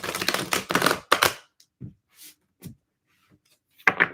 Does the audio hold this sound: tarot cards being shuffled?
yes